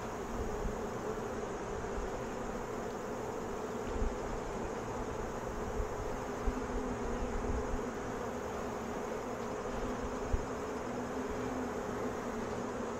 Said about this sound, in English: I got a bee going up my leg here.